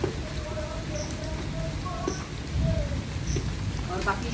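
Steady rain falls outdoors in a village during the evening, a constant dense patter close by. Faint background sounds and a few brief tones come through over it.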